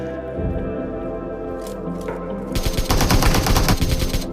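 Gunfire in the mobile battle royale game BGMI breaks out after a quieter stretch, a loud, fast string of rapid shots filling the second half over a steady game background.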